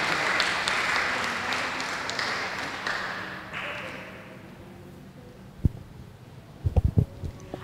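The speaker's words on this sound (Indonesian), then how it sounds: "Tepuk tangan." Congregation applause at a church service, a steady burst of many hands clapping that tapers off after a few seconds into quieter room sounds with a few scattered taps and knocks.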